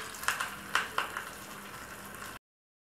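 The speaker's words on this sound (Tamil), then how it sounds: "இப்போ இந்த சிவப்பு மிளகாய், கருவேப்பிலை போட்டு இந்த சட்னியில் அப்படியே ஊற்றிட வேண்டியதான்." Hot tempering of red chillies and curry leaves is poured into coconut chutney, giving a few sharp splutters and then a soft steady sizzle that cuts off abruptly.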